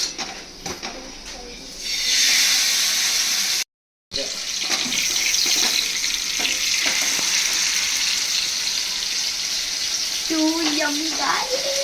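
Chicken hariyali kebabs fry in hot oil on a griddle, a loud sustained hiss and sizzle that swells after a brief gap, with a voice speaking faintly near the end.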